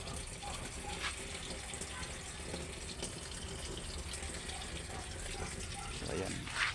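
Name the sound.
water filling a Sharp automatic washing machine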